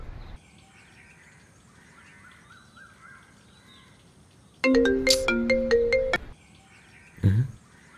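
A mobile phone ringtone plays a short bright melodic phrase of quick tonal notes for about a second and a half against quiet room ambience in a Telugu film scene, followed by a brief low thud.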